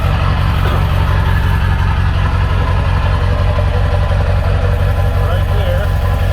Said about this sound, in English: I do have an exhaust leak.